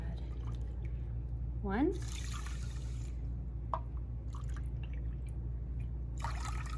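Two cups of water poured into a pot with one cup of rice for cooking, short splashy pours with light trickles and drips, a voice briefly counting over them.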